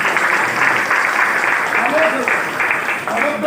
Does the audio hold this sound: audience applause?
yes